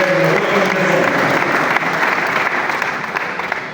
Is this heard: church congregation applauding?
yes